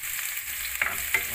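Onions and garlic sauté in a pan with a brief, quiet, even sizzle, marked by two small scraping clicks from a stirring utensil.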